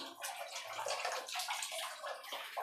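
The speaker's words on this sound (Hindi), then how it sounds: "पानी का वाल्व चालू कर देने से इसमें से पानी आ रहा" Water gushes steadily from a household gas geyser after the water valve is opened, a loud continuous splashing rush with slight gurgling, close by.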